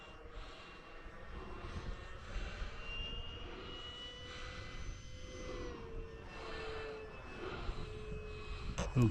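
Small model airplane with a balsa wood fuselage and foamboard wings and tail flies on a test flight, giving a steady, continuous motor drone with shifting whine that holds fairly loud throughout the flight.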